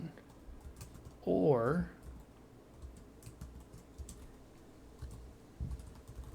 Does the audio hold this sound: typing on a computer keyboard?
yes